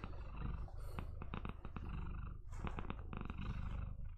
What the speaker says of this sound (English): Gigi's really good at purring